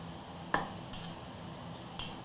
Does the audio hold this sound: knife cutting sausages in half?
yes